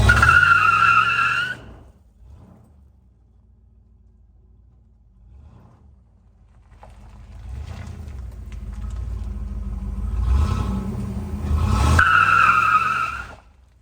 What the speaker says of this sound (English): This will officially be our first burnout on the channel that I've actually done.